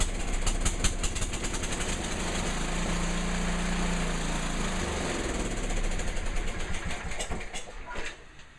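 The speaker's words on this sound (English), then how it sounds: "I'll start it up just so you can hear it, and then I'm going to shut it off." A Sears 10XL lawn tractor engine runs in a garage, a close, loud, rapidly pulsing small-engine chug that holds steady before winding down and cutting out near the end.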